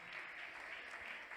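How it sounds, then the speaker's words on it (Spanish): Church congregation clapping hands in praise during a worship service, a dense steady wash of applause filling the whole short moment without break. "fuerte palmas al Señor."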